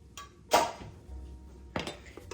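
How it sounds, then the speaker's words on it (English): Ground beef stirred in a pot with a utensil, giving two distinct scraping clanks against the metal a second apart, with soft shuffling between them. "I'm just going to stir this all around"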